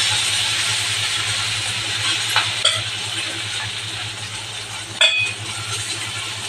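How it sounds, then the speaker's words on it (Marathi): Hot oil tempering poured over a ragi-flour kothimbir vadi sets off a steady, even sizzle and hiss, with a few brief clinks partway through. "तर हे मी वर फोडणीला टाकणार आहे"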